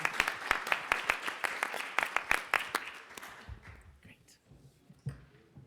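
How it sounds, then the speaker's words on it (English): An audience at an election night panel event claps for the panelists: a burst of sharp, fairly close hand claps that thins out and fades after about three seconds, leaving quiet murmuring. "we're going to thank our panelists with a big round of applause"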